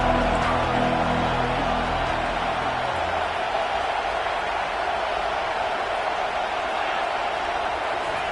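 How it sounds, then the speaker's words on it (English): A college football stadium crowd roars in a broad, steady wash of cheering that fills the whole stretch, with the low hum of the broadcast fading out early. "this crowd trying to help keep them there"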